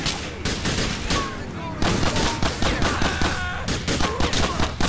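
Dense, fast volleys of gunfire from a GTA: The Ballad of Gay Tony street chase, loud overlapping shots crackling nonstop with a faint tonal whine beneath.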